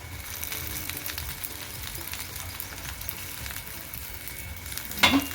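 Masala of coriander powder and turmeric sizzles in oil in a pan for masala bhindi, a soft, even frying hiss with a brief sharper clatter near the end and no talking.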